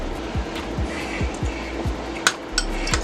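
A utensil stirs Thousand Island sauce in a bowl, giving a handful of irregular dull taps and light clinks against the dish over a steady low background hum, with no talking.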